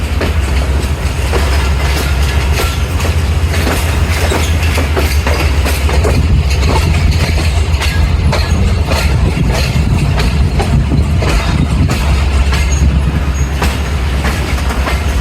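The Karachi Express runs from Rohri to Lahore with a loud, continuous rumble and a steady clickety-clack of wheels on rails, heard up close.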